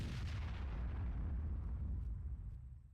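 Artillery fire in World of Tanks booms out as a heavy, sustained low rumble that rolls on for several seconds and tapers slightly at the end, loud and close with no voices.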